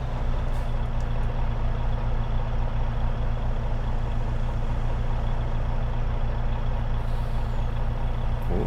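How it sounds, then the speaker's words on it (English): In the Farming Simulator game Saskatchewan Grain & Pulse, a truck engine drones steadily and loudly with road traffic noise, a continuous heavy rumble with no breaks. "Looks like we've got a little bit of traffic too."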